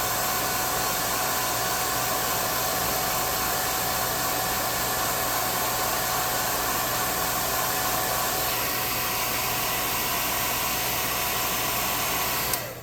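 A hair dryer on its low setting blows over freshly painted giant mantis miniatures, a steady close, loud whooshing hiss that holds evenly for about twelve seconds before cutting off abruptly.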